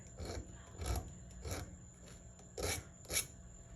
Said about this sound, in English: the screw head by filing it down to where it needs to be